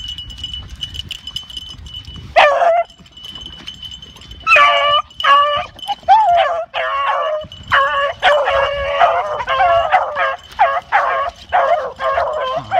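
Several beagles bay and yelp in an excited, overlapping chorus while chasing a rabbit, repeated cries ringing out steadily at moderate distance.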